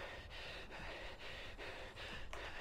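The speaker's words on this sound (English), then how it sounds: "Except for the heavy breathing in my ears right now." Heavy breathing, close and steady, with rhythmic gasping breaths repeating roughly every half second over a low background hum; no talking.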